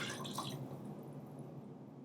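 Two cups of water pour into a pot of vegetable soup, a soft sloshing splash that is strongest at first and then fades to a quiet trickle, heard alone and fairly faint.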